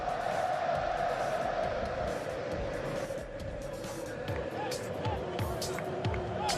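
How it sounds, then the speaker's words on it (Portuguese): Corinthians football fans chant in a stadium, a steady, massed crowd roar with a sung melodic line carrying throughout, while a commentator talks over it. "Olê, Tite, grita o torcedor do Corinthians."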